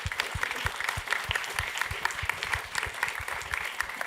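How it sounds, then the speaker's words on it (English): A conference audience claps for a panel on marine carbon dioxide removal, steady, lively applause from a moderately sized crowd with individual hand claps audible throughout the few seconds. "let's just give a round of applause to our panel"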